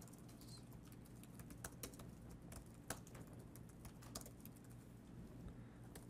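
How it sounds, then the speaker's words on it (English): Typing on a computer keyboard while entering accounting homework data, a quiet irregular patter of key clicks with a few sharper taps, close by and without speech. "I'm just typing out what we have right here."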